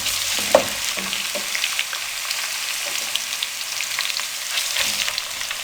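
Onions with ginger-garlic paste fry in a pan for a dhaba-style mixed dal, giving a steady close sizzle with a few soft stirring knocks and scrapes, and no voices.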